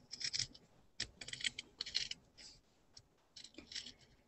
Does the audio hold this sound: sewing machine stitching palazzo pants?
no